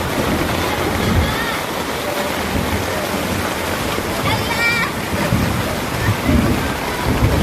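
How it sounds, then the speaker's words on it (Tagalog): Heavy rain pours steadily over a flooded, overflowing muddy creek with a strong current, a continuous loud wash of water close by, with someone talking intermittently over it. "Mapaw na po yung ilog. Putik na yan."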